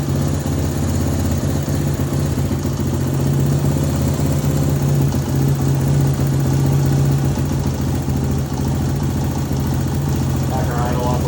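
A 1975 Honda XL125 motorcycle engine runs lean without its airbox tube, holding a loud, steady idle close by for the whole stretch, with a rise in pitch near the end.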